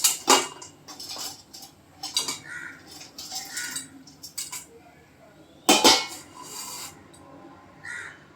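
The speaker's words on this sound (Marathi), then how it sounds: "असा एक मी डबा घेतलेला आहे, त्याच्यामध्ये ह्या कुरड्या अशा टाकायच्या." Brittle clattering of dried kurdai being dropped into a metal container, a series of sharp scraping clinks in irregular bursts, close up and alone.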